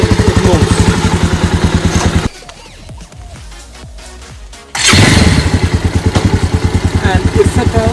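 A motorcycle engine runs loudly with a steady throbbing beat, drops to a quieter idle with a few thumps as the clutch is worked, then surges back louder as it accelerates and moves off.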